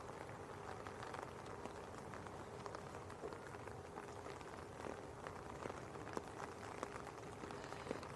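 Steady rain falls on an umbrella outdoors at Leeds Bradford Airport in wet, windy weather, a continuous close patter with scattered sharper drops throughout, no voices.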